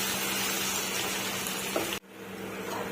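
Half a glass of water goes into a hot pan of frying drumstick and egg masala curry, and the steady loud sizzle suddenly drops to quiet. The bubbling then slowly rises again, with no voices.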